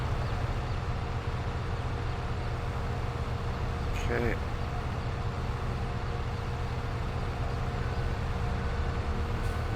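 Engine of a Ferrocin telehandler running in a farming video game, a steady dense rumbling drone held throughout at even loudness, with one brief word spoken over it.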